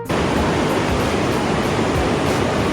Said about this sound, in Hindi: कितनी आवाज तेज आ रही है नदी की